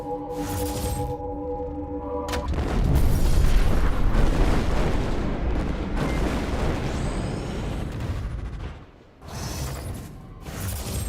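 A stream explosion effect: a sustained loud, rumbling blast builds after a short tonal intro and roars for several seconds, then dips and returns more softly.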